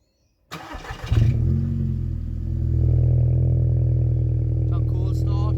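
A VW Golf Mk5 with a newly fitted exhaust cranks briefly, catches and settles into a loud, close, steady idle with a deep exhaust drone that rises slightly partway through, and voices are heard faintly near the end.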